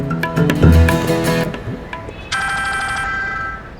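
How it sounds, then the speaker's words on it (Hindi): A mobile phone ringtone rings after a brief stretch of other sound, sustaining steady tonal notes through the second half, fairly loud and alone with no talk. "मैडम जी, ये तो विक्की साहब का फोन है।"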